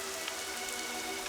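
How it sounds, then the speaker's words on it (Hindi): Heavy rain falls in a dense, continuous hiss of drops with no break, loud and close. "इतनी बारिश हो रही है"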